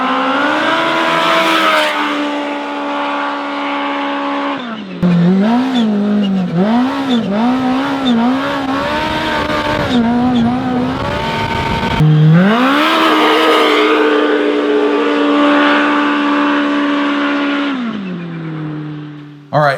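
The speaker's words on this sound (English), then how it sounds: "There's no other vehicle in the industry that sounds as cool as the Kawasaki with a muffler bypass on" Kawasaki Teryx H2 engine revving through a muffler-bypass exhaust, loud and close, with long rising and falling revs and a warbling, fluttering stretch in the middle.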